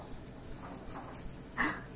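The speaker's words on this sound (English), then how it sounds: "The crickets surround the porch, and they make happy music." Crickets around a porch at night give a steady, faint high-pitched chirring that runs without pause, with a brief louder rustle near the end.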